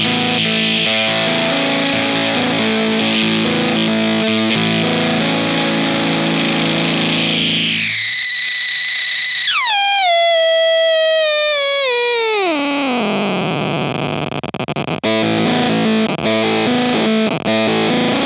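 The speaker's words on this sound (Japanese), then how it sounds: "ゲートを上げるとジリジリ、コンプを上げればブチブチとベルクロっぽくなる" Guitar played through a Fuzz Factory fuzz pedal: a thick, loud distorted tone gives way to a squealing oscillation that sweeps downward in pitch, then breaks into sputtering, gated fuzz.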